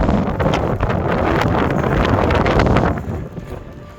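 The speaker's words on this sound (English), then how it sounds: "It's very windy. Wind is going from the west to the east." Strong wind buffets the microphone in heavy, continuous gusts on a hillside at Meall Bhuidhe, Glen Lyon, Scotland, roaring loudly before easing somewhat near the end.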